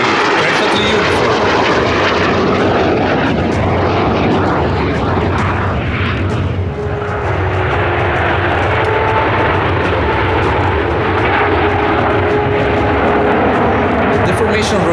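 Frecce Tricolori jets in tight formation roar overhead at the Cold Lake Airshow 2024, a loud continuous engine rumble with a broad hiss that swells and shifts as the aircraft pass, while a commentator talks over it throughout.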